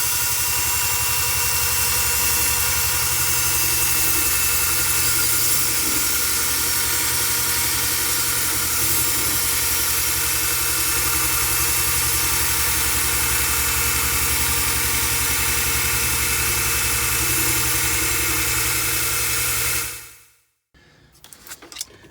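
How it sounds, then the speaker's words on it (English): A wire wheel grinds into the corner of a cast iron skillet: a steady, loud mechanical whir with a harsh scraping hiss runs continuously for about twenty seconds, then cuts off abruptly. "I'm going to use a wire wheel to get down here in the corner."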